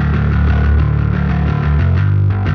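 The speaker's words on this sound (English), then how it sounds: "When you use this much distortion in your bass sound, compressors become less and less necessary" A heavily distorted bass guitar from a power metal production plays loud, dense low notes with a gritty, saturated buzz. It changes pitch steadily, with no voices.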